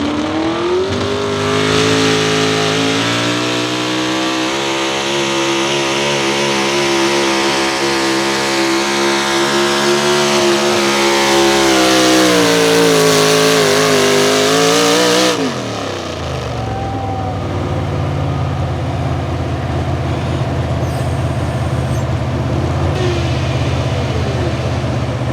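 A GMC-powered pulling truck from West Virginia revs hard and loud for about fifteen seconds with a rising, straining engine roar, then drops back to a lower steady rumble at a truck pull.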